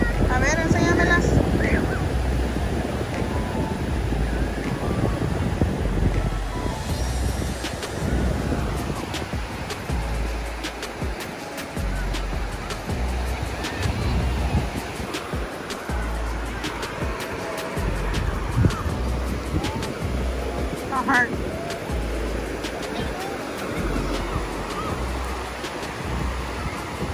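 Ocean surf rolls onto the shore at Newport Beach as a continuous loud wash of breaking waves, mixed with gusty wind buffeting the microphone throughout.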